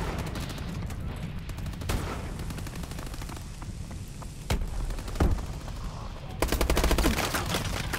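Rapid automatic gunfire bursts and heavy shots from an online team deathmatch in Call of Duty: Advanced Warfare on Xbox One, loud and continuous across the whole stretch, with occasional booms.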